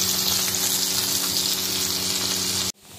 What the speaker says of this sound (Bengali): পাবদা মাছের ঝালটা ফুটছে এখন।